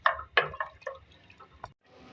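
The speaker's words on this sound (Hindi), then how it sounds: "अब इसमें 1 डेढ़ गिलास पानी डालेंगे।" Water poured into a handi pot of beef and bottle gourd, heard as a few close splashing bursts that fade into a quieter trickle.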